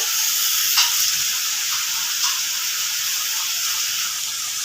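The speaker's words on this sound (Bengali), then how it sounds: "তেলের মধ্যে দিয়ে দেবো। সব একসঙ্গে ভেজে নেবো, দু রকম সবজি।" Two kinds of chopped vegetables fry together in hot oil, a loud, even hiss and sizzle that holds steady throughout with a couple of brief crackles and no voices.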